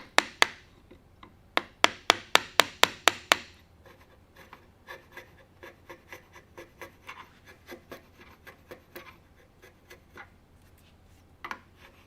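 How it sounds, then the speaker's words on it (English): A hand gouge cuts into a hard Osage wood gun stock forend, giving a quick run of sharp, close scraping strokes at first, then softer, steadier rhythmic shaving cuts, with no talking. "I'm going to just use my gouge."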